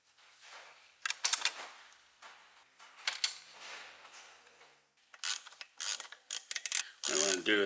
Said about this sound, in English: What I'm going to do is just tighten these down snug